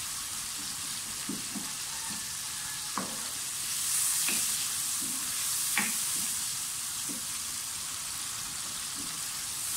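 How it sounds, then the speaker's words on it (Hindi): Onions fry in a hot pan, a steady continuous crackling hiss with occasional soft clinks of stirring. "प्याज थोड़ा थोड़ा सा फ्राई हो जाए"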